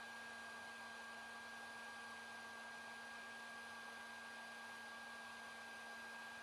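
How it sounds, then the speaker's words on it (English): Heat gun blowing hot air while plastic-welding tabs onto a clog, a steady broadband whoosh with a constant motor hum throughout, moderately close and alone with no talking. "You can notice that the heat gun is pointing directly into the V."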